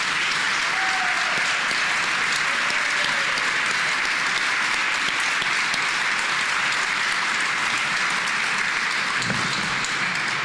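Steady, loud applause from a press conference audience welcoming Olympic luge medalist Erin Hamlin, continuous and even throughout with no talking.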